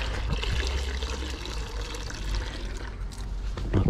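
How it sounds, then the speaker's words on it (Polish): Running water rinses shampoo out during a wash, a steady close splashing and trickling flow that continues throughout with no talk. "Pozwolę sobie spłukać to, co umyłem"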